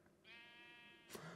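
A sheep in Minecraft gives a single drawn-out bleat, quiet and close, with no talking over it.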